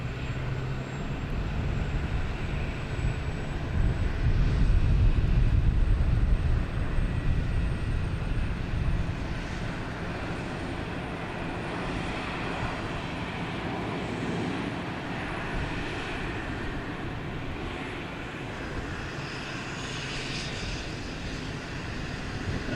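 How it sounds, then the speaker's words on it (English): An American Airlines A321neo jet arriving from Philadelphia at Boston Logan Airport, a continuous loud engine roar and rumble that swells early and then holds steady as a broad wash, heard alone with no talk. "Now we have American Airlines and A321neo coming in from Philadelphia."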